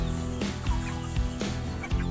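Free-range backyard chickens clucking over a steady background hum, a few short calls scattered through the moment, moderately close.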